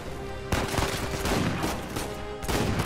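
Shotgun fire in the video game Uncharted 4: loud blasts at about half a second and two and a half seconds, with a steady rumble of game music and action noise underneath.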